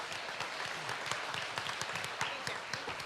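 Steady crowd applause with dense overlapping claps honors the champion and reserve champion hogs at the 2026 Northern Wisconsin State Fair swine show, continuing evenly for the full three seconds without speech.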